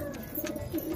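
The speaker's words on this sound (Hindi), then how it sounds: "तो आप ये देखो आप कबूतर बहुत सुंदर रहेगा" A desi high-flyer pigeon gives a short, close coo, a soft rounded murmur lasting under a second with faint background noise.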